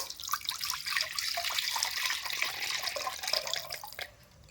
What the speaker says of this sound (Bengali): কড়াই গরম হয়ে গেছে, কড়াইয়ের মধ্যে কিন্তু দুধ ঢেলে দেবো